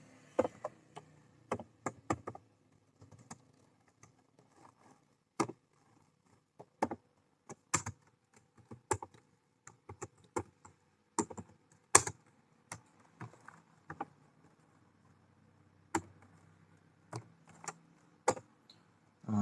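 A date being typed on a computer keyboard while preparing an internal Thai government memo: sparse, irregular key clicks, single taps and quick short bursts with pauses between, close and quiet with no talking.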